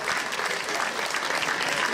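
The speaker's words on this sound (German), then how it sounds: "das ist Ihr Applaus" Audience applause for Winfried Bode at an event in Leverkusen, a dense, steady wash of many hands clapping at even loudness throughout, with no voices above it.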